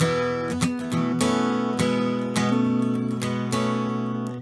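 An acoustic guitar in DADGAD tuning plays the second section of the Scottish song Mormond Braes, with steady strummed chords over a ringing drone, alone and close.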